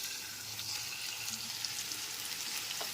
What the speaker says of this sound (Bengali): এর মধ্যে দিয়ে দিচ্ছি একটা টমেটো বাটা টমেটো পেস্টটা এক থেকে দু মিনিট কষিয়ে নেওয়ার পর